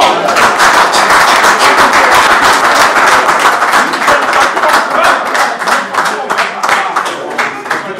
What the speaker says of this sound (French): je demanderai à vous sur la note d'applaudir notre artiste, votre artiste, Bébé J3